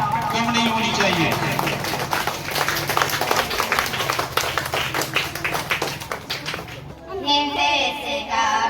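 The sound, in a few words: audience applause welcoming students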